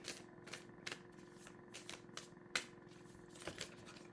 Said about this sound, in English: my cards got a little mixed up, so I'm going to shuffle